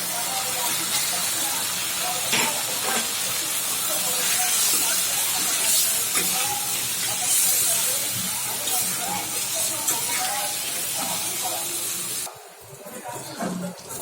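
Shing fish roe sizzles loudly in hot, well-cooked masala, a bright continuous hiss with light stirring and crackles that drops away sharply near the end.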